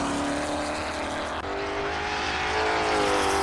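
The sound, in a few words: Ford GT40 Mark 1 race car engine driving past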